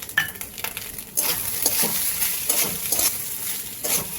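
Fried paneer and egg bhurji being stirred into rice in a hot pan, with a steady close sizzle and repeated scraping strokes of the spoon.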